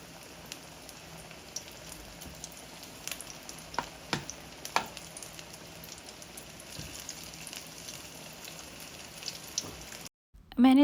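Samosas deep-fry in oil, a faint steady bubbling hiss with scattered soft pops, heard from a little distance and alone, ending in a short break and a louder bump.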